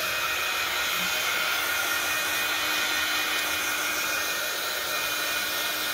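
Continuous loud whir of a heat tool blowing hot air to dry a cereal box masterboard for a junk journal cover, steady and unbroken throughout with no speech.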